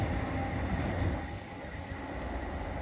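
A train pulls away and gathers speed at Earlestown station on the Liverpool and Manchester line, a steady close rumble of wheels and running gear that dips slightly midway and then holds, with no voices.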